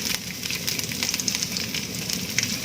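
Garlic sizzles steadily in hot oil in a home kitchen, a dense, continuous crackling hiss held close and even throughout, with no voices over it.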